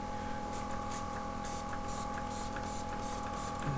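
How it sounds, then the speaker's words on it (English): Short hissing sprays of alcohol misted onto freshly poured cold process sweet orange soap, repeated quick pumps over a steady background hum, close and fairly quiet. "Spray it with some alcohol."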